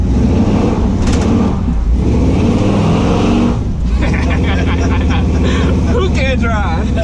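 A cammed Chevrolet C10 truck engine roars loudly and steadily as it accelerates, with a throaty rumble throughout and a brief dip midway, while people talk over it.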